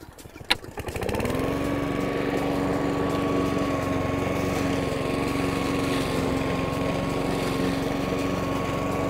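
A small engine starts with a sharp pull, then settles into a steady, loud, continuous drone of a lawn mower with a grass catcher running close by.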